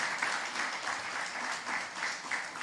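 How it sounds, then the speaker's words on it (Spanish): A church congregation claps for the Lord during a worship service, sustained dense applause with a steady rhythmic pulse, close and fairly loud, no talking over it. "Dale palmas al Señor"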